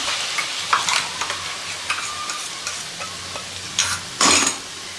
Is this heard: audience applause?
no